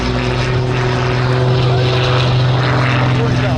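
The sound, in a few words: display aircraft taking off at an airshow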